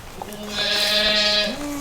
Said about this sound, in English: Then you hear mama in the barn.